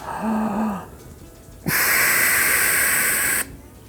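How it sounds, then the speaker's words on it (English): A loud, steady breathy hiss of air forced through a duck call insert lasts nearly two seconds, following a brief low reedy tone. "I could blow through my insert and you're still going to be making that sound"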